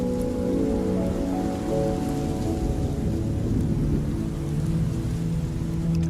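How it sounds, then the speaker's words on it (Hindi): Steady rain pouring down, a dense continuous hiss and patter on surfaces with low rumbling underneath, loud and unbroken throughout with no voices. "बारिश तो रुक गई।"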